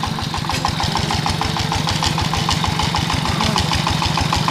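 A motorbike engine runs steadily at close range with a regular, throbbing idle pulse, loud and alone with no talk, on a muddy rural village road after heavy rain.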